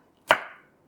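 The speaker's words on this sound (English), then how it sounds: "I've taken off the skin and I'll finely chop that." A single sharp knife chop through a skinned tomato on a cutting board, crisp and close, with a short ringing decay afterward.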